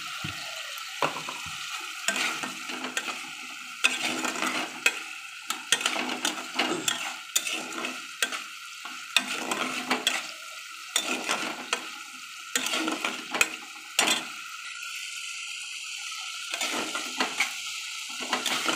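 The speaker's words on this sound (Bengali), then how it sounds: "এবার মশলাটা আমি কষতে থাকবো।" Spices and chopped tomato frying in a pan for an egg omelette and potato curry, with a steady sizzle and repeated scraping stirs from a spatula against the pan, close and alone without talk.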